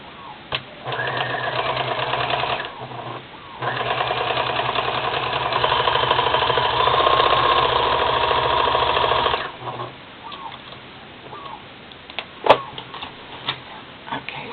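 A sewing machine stitching a folding pouch runs in two long bursts of rapid, steady mechanical whirring and ticking, close and loud, followed by quieter handling clicks and a sharp knock.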